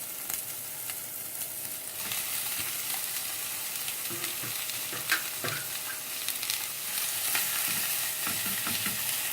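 Minced meat fries in a pan with a steady, close sizzle while a utensil stirs it, scraping and knocking now and then against the pan.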